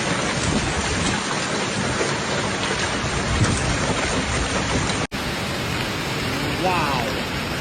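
Heavy rain pours steadily through a severe thunderstorm in East Tennessee around Knoxville, a loud, dense wash of noise that continues unbroken apart from one brief dropout near the end.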